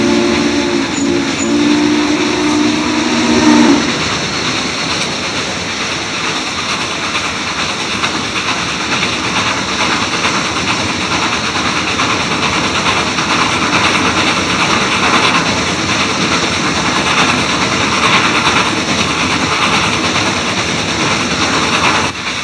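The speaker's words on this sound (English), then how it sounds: "the crew back in the tool car leaned out the open doors to listen to the beautiful sound of the exhaust" Southern Pacific 4449 steam locomotive running under throttle, its loud, steady exhaust chuffing and hissing continuously alongside rail noise, with a brief tonal whistle-like sound at the start.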